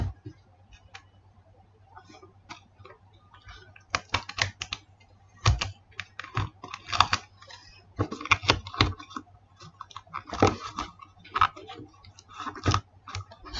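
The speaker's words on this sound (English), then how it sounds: "you're going to keep on taping it until it's fully covered" Tape is wrapped around a rolled paper tube in quiet, irregular bursts of crackling, ticking and crinkling, close by with short gaps between pulls.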